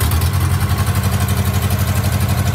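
Barn-find Sprite engine cranked over on the starter and running with a steady, loud, rhythmic low throb that pulses evenly from start to finish, alone with no voices.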